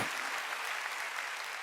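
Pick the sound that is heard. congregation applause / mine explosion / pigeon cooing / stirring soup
congregation applause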